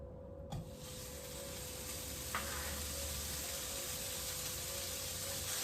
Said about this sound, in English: fry up these bacon.